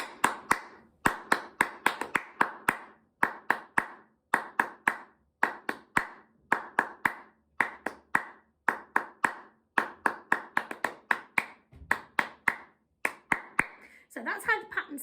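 Hands clap a repeating percussion pattern for a Hawaiian song, sharp close claps grouped in quick rhythmic bursts with brief gaps, steady and crisp throughout, with a voice coming in near the end.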